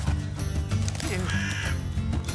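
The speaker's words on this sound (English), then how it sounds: "How'd a fucking bird get in here?" A crow-like bird caws repeatedly in the video game Immortals of Aveum, harsh calls sounding over a dense, continuous game soundscape.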